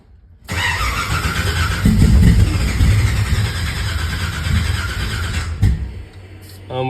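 A big block Chevelle fitted with Aces EFI fires up and settles into a loud, rough, steady idle close by, with voices heard over it before it cuts out.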